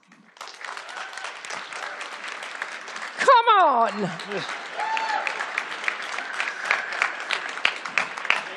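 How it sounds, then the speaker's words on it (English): A conference audience applauds a debate team, with many hands clapping in a steady wash that builds through the clip, while one voice shouts loudly partway through. "clap now."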